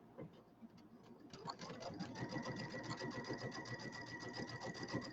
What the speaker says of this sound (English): I'm going to sew just inside, about 1 stitch inside that line.